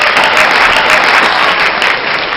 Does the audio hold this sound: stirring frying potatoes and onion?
no